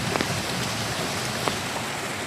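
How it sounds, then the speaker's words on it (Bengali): Heavy rain falls just outside an open window, a dense, steady hiss of close drops with occasional louder splashes and no voices. "ওখানে জল এসে আমি ভিজে যাচ্ছি, প্রচণ্ড বৃষ্টি হচ্ছে"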